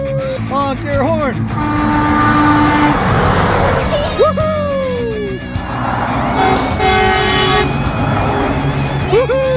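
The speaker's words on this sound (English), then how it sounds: "Honk your horn!" A toy truck horn honks a few times over a steady engine rumble, while excited voices shout and cheer close by.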